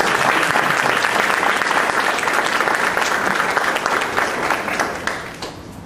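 An audience at a board of education meeting clapping for teachers, a dense sustained round of applause that stays loud and steady before tapering off at the end.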